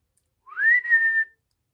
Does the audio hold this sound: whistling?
yes